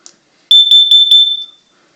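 A smoke alarm sounds a loud, shrill burst of rapid beeps lasting about a second, right up close, after a tiny chirp.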